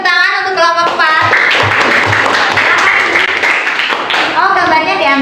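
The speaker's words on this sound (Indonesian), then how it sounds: "Beri tepuk tangan untuk kelompok 4." A classroom audience claps for a presenting group, a dense burst of many hands clapping through the middle, with a voice speaking before and after the applause.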